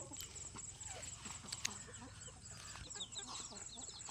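Free-range desi chickens cluck and chirp in short bursts as they are let outside, over a steady outdoor murmur, with scattered soft knocks and rustles nearby.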